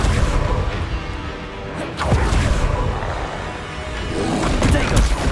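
An Expelliarmus spell cast in Hogwarts Legacy brings a whoosh and heavy boom within steady combat noise, with a voice speaking over it.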